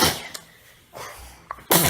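A single sharp, forceful sneeze bursts out at the end after a few quiet breaths and a faint click, close by.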